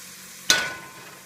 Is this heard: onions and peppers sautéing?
yes